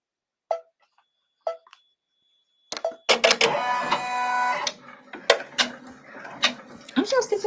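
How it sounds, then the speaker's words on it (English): Sewing machine stitching back over fabric: a few isolated clicks, then a steady, close mechanical whirring run of stitches for under two seconds, followed by scattered clicks and handling sounds. "I'm just gonna stitch over it again."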